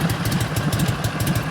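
A 1965 Harley-Davidson Panhead FLH 74ci V-twin with Evo lifters, a mild cam and a stock rocket-style muffler idles close by, loping in an even, loud, rhythmic thump.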